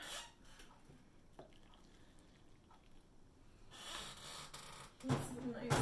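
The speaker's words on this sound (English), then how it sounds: "let's finish adding the rest of the water." Water is poured into prepared matcha tea, with soft splashing and trickling that swells into louder bursts of pouring near the end, close by in an otherwise quiet room.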